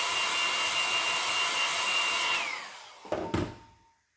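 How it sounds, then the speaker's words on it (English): A small handheld hair dryer blows steadily to dry paint paste, a constant whir that then winds down, followed by a couple of brief clunks as it is set down. "I have a little blow dryer, just a hair dryer."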